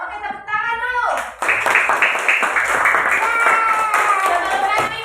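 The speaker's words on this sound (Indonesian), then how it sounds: "Oke, tepuk tangan dulu." A class of children claps together, a burst of quick, overlapping hand claps that continues for several seconds after a teacher's voice, with young voices chattering underneath.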